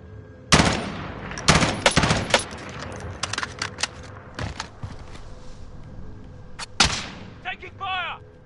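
Gunfire in Call of Duty: Warzone, several loud sharp bursts and single shots close by with quieter clatter between them, followed by short whistling chirps at the end.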